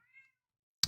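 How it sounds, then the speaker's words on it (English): A house cat gives one soft, short meow from the background of a quiet room, followed after a pause by a sudden loud burst of noise at the very end. "apologize for the meowing. That's my cat in the background."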